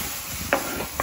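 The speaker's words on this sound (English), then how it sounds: "sizzle. Brown that ground meat down," Ground elk meat browning for chili in a pan, a soft steady sizzle with a couple of brief scraping stirs, close and quiet with no voices.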